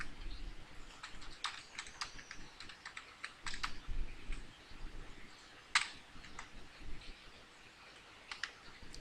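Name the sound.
typing on a computer keyboard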